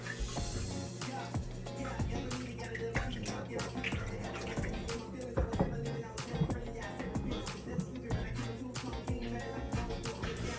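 Water splashes and trickles steadily into a 20 gallon long aquarium tank, a continuous bubbling pour with small drips and gurgles throughout.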